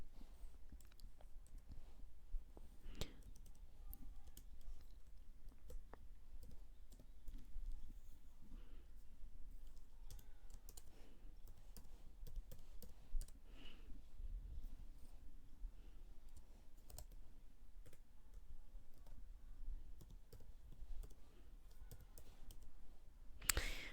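Data being typed on a computer keyboard during mail merge work, with sparse, irregular soft key clicks over a quiet room tone, faint and unhurried throughout.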